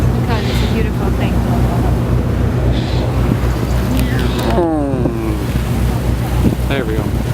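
A tour boat motors up the Krka river, its engine droning low and steady beneath wind buffeting the microphone and splashing water, with people talking over it and brief tonal squeals near the middle.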